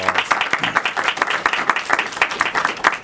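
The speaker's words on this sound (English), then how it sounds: "So please give Suzanne a round of applause" An audience at a panel event applauds with dense, steady clapping from many hands that carries on for the full three seconds, with no pause.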